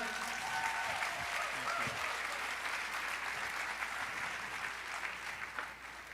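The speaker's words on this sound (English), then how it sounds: "Another round of applause for Dr. Timothy Mcknight." Steady, distant audience applause follows a talk about Kangen water, a soft continuous wash of clapping with faint background voices.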